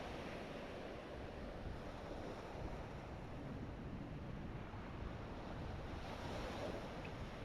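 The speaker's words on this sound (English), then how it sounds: "gently constricting the throat a little bit so the breath becomes audible. It should sound like the waves of the ocean." Audible ocean breath drawn through a gently constricted throat, a soft, continuous breathy rush like distant surf, faint and steady with no talking.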